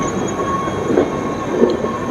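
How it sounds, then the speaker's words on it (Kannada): A train in Bangalore rumbles along the rail line with steady clattering and a thin high whine, two soft knocks of wheels over track joints standing out, no talk. "ಇಲ್ಲೇನು ಟ್ರೈನ್ ನಿಂತಿದೆ ನೋಡಿ."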